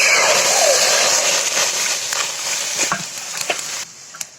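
Tomato juice cooking down on high heat in a kadai for tomato sauce: steady sizzling, with a few soft scrapes and clicks of a spoon stirring toward the end.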